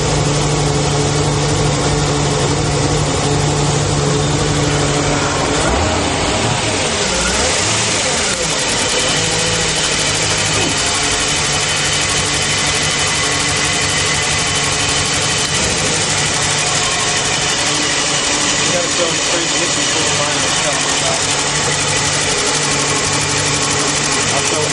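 A 2005 Malibu Response LXi boat engine idles steadily and loudly throughout, a continuous droning rumble with a faint whine on top, while people talk in the background.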